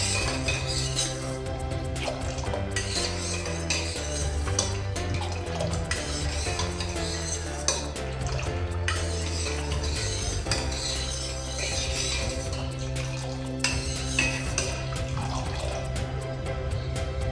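Syrup stirred into a drink of betel leaf sherbet, a steady clinking and swirling of a spoon in a glass running continuously under a faint musical bed.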